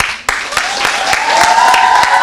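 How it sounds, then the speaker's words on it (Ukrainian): Audience applause at an awards event honoring performers, a burst of clapping that starts abruptly and builds to a dense, steady roar over about two seconds. "Я аплодую вам стоячи, ви просто молодці."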